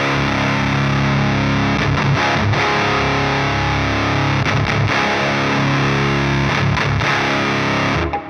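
Electric guitar played through a Neural DSP Gojira X distortion tone, loud and dense with sustained, slightly muddy chords broken by a few brief choked pauses, ringing steadily until it cuts off at the end.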